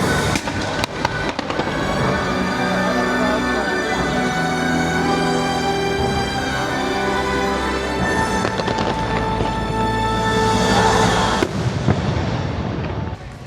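The Luminous fireworks show at Disney World, seen from the far side of France, fills the air with continuous crackling bursts and booms over a soaring orchestral score, loud and sustained with no talk.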